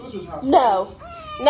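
A pet cat meows and caterwauls loudly and close by, with drawn-out wavering cries mixed with a person speaking.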